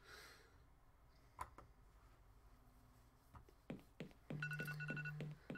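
A telephone in the 7 Days a Skeptic video game rings in a steady repeating electronic trill near the end, after scattered game clicks and thuds, with no talk over it.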